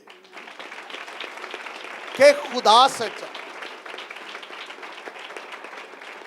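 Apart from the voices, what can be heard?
congregation applauding during a sermon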